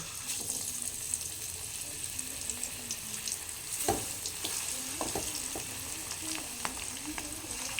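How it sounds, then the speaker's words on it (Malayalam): Fish frying in a pan, a continuous close sizzle with occasional stirring scrapes and light clinks, steady throughout and without talk. "മരിച്ചിനി വേവുന്ന സമയം കൊണ്ട് നമുക്ക് മീൻ വറുത്തെടുക്കാം."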